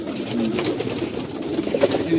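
Pigeons on a pigeon farm coo in soft, low throaty calls close by, mixed with a voice speaking over them.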